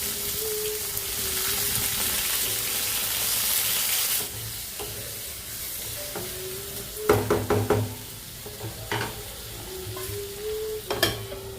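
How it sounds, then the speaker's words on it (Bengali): Dry chilli and black mustard seeds sizzle in hot oil for mango chutney, a steady bright hiss lasting several seconds, followed by a few clattering knocks and stirring sounds as the pan settles down. "এই তো এখন আমি বসিয়ে দিচ্ছি আমের চাটনি, যেখানে আমি একটু শুকনো লঙ্কা আর একটু কালো সর্ষে ফোড়নে দিলাম"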